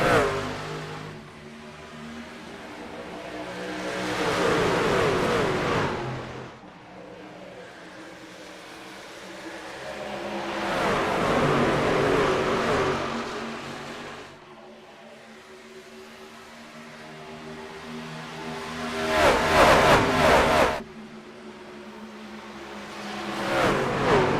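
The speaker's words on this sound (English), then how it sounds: "a field of 17 Speed Racing Network Glytch Truck Series vehicles roars to life here in South Florida" Seventeen Glytch Truck Series race trucks roar to life at Homestead-Miami in the iRacing video game. Engine noise rises and falls in broad waves as the pack revs and sweeps past, swelling loud, easing off, then surging again.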